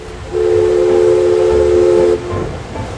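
A steam-powered paddle wheeler at Disneyland sounds a loud, steady steam whistle with a hissing edge, holding one tone for nearly two seconds before cutting off into the lower rumble of the boat.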